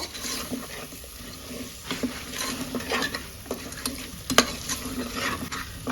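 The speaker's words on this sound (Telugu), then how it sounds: "వంకాయ ఉర్లగడ్డలను అయితే బాగా కలుపుకోవాలి మసాలాలో" Eggplant and potato pieces are stirred through masala in a pan, a soft continuous sizzle broken by scattered scrapes and clinks of a spoon against the pan.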